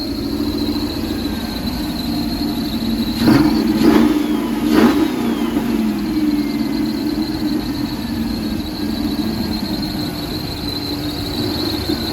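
A 1976 Buick Skylark engine runs steadily on its rebuilt carburetor, a close, even idle with a faint whine above it and a few brief throttle blips near the start, with no voices.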